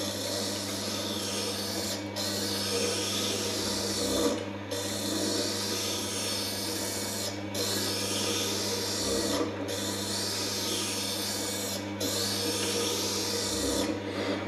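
Hand plane blade bevel rubbed steadily on a sharpening stone, a continuous close rasping scrape in long strokes with brief pauses roughly every two to three seconds.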